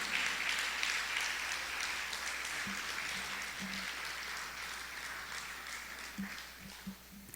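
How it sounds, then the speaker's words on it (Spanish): A church congregation gives applause to the Lord, a soft, continuous patter of many hands heard from a distance. It stays faint and steady, with a few low voices and scattered sounds underneath. "¿Cuánto le da un aplauso al Señor?"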